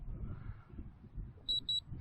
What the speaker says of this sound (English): it does emit a couple of beeps just to let you know it's powered up